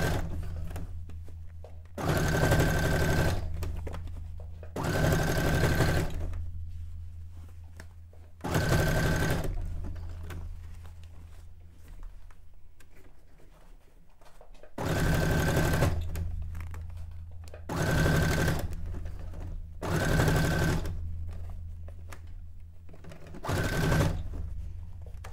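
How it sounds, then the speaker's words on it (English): Sewing machine stitching through two layers of fabric while making a cone-shaped miniature townscape cape, running in several bursts of a few seconds each with short pauses between, loud and close, with no talking. "it's not the worst sewing through 2 layers"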